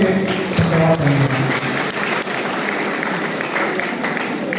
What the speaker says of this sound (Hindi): हम लोग जोरदार तालियों के द्वारा हमारे बिशप स्वामी के लिए धन्यवाद देंगे